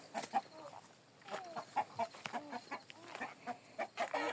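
Farm chickens kept in a rural yard, roosting in a tamarind tree, cluck repeatedly in short, irregular bursts, fairly close and alone without talk.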